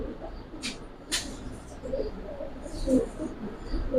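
Giribaz pigeons coo softly in short, breathy bursts, fairly faint and close, mixed with a few sharp rustling sounds.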